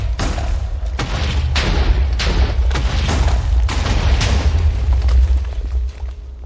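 TNT blasts going off in Minecraft, a rapid chain of loud booming explosions with deep rumble, roughly seven bursts over several seconds, fading at the end.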